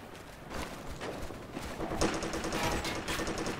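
Enemy rifle and sniper fire in the military shooter Operation Flashpoint: Red River crackles faintly in the distance, with scattered sharp shots standing out against a low, steady rumble.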